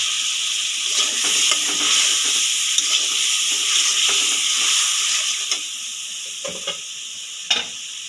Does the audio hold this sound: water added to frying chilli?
yes